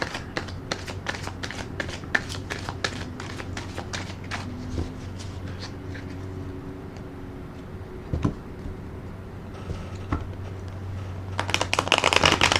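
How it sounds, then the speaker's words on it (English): A tarot card deck being riffle shuffled, a rapid fluttering patter of cards, close and clear, ending in a louder burst as the deck snaps together. "I'm gonna put another shuffle and rifle on a deck."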